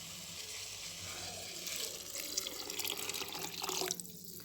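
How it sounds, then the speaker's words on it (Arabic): Cold water runs from a kitchen tap into a cooking pot of peas, a steady close splashing stream that grows slightly fuller as the pot fills, with no talking. "راح نمرق بالماء بارد، مانيش راح ندير الماء سخون."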